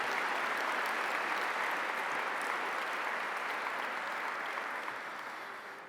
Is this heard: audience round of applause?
yes